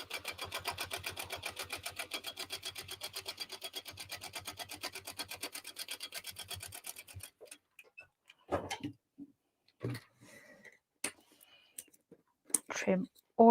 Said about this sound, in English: I'm just going to run a second row of stitching